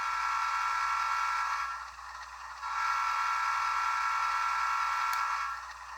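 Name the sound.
model train engine sound from decoder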